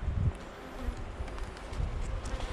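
Buckfast honey bees buzzing at an opened hive, a steady dense hum close by with a faint rustle, no talk.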